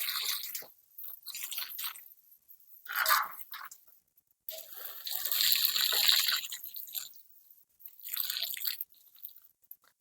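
Water poured onto an aglaonema plant in its pot, splashing and dripping in several separate short bursts with quiet gaps between, close and fairly soft.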